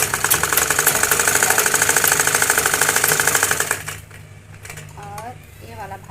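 A sewing machine stitches a blouse lining with a steady, fast mechanical chatter close by, then stops abruptly, leaving faint handling noises and a few soft sounds.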